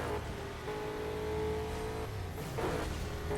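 Muscle car engine in the Burnout Paradise racing game, a loud sustained roar with a rising rev partway through, heard alone without talk.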